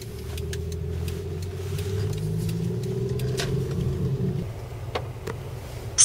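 Steady low car engine drone and road rumble from inside a moving car heading along Kirkwood Boulevard, constant throughout with a few faint ticks and clicks near the end.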